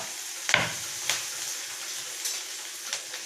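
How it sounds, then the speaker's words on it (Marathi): Onion and green chillies sizzle in a pan, a steady close frying hiss with a few soft stirring scrapes and clicks on top, no talking. "तर बघा, आता या ठिकाणी त्यात आपण कांदा टाकणार आहोत आणि हिरव्या मिरच्या."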